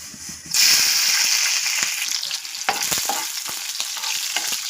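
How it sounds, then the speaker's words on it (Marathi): Green chillies hit hot oil with a sudden loud burst of sizzling that settles into a steady crackling fry, with a few stirring clinks, while dried bombil and fenugreek are being cooked. "तेल गरम झालेले मिरचे टाकूया"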